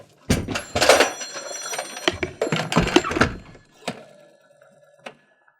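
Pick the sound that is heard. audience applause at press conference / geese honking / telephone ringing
telephone ringing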